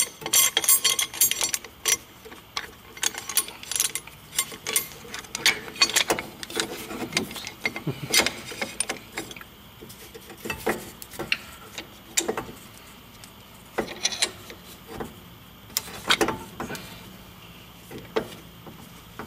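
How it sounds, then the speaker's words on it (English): A C-clamp being tightened to compress a disc brake caliper piston during a brake pad change, giving irregular ticking, clicking mechanical sounds up close with brief sharp metallic taps scattered throughout. "So use a C-clamp to compress the piston on the caliper"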